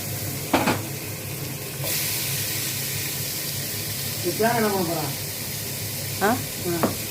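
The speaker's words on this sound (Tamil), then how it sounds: "இப்போ நம்ம தக்காளி சேர்த்து நல்லா மேஷ் பண்ணி வதங்கிடுவோம்." Tomatoes with onions, mint and coriander sauté in a pan for a coconut milk veg pulao, a soft continuous sizzle with occasional scraping as they are mashed, under a few brief spoken words.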